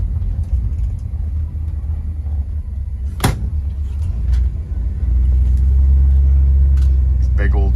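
A 1955 Chevrolet Bel Air with drum brakes and no power steering drives along, its engine giving a steady, loud, low rumble from inside the car, with the note rising and thickening near the end as it moves through the gears.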